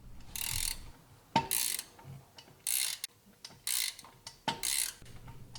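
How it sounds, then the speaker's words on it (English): A ratchet tightens the nut on an MMT-1 bushing tool for a Mustang rear upper control arm bushing: repeated short clicking bursts from back-and-forth strokes, close and fairly quiet, with no talking. "Resume tightening the nut to draw the bushing in."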